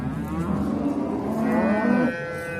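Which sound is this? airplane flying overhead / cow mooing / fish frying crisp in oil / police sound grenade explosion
cow mooing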